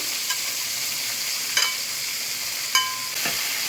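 Carrot and capsicum stir-frying in a pan for fried rice, giving a steady, moderately loud sizzle with a few sharp spatula scrapes and clinks rising out of it.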